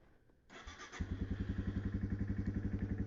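A Yamaha TW200 motorcycle engine cranks briefly, catches and settles into a steady, close thumping idle with an even rhythmic pulse.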